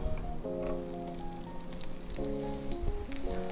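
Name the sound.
garlic and onion sizzling in hot cooking oil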